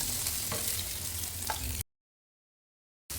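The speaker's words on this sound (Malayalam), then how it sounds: "മീൻ നമുക്കൊന്ന് ചെറുതായിട്ടൊന്ന് ഫ്രൈ ചെയ്തെടുക്കണം" Karimeen fish shallow frying in coconut oil in a hot pan, a steady close sizzle and crackle with a few brief stirring clicks, then cutting to silence before the frying resumes.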